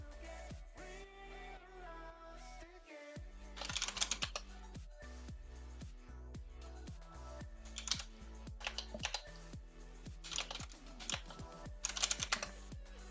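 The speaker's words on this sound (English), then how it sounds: "I'm typing that out" Typing on a computer keyboard while coding a game server in Rust, a steady run of close, clicky keystrokes with brief pauses and a few louder bursts of faster key presses.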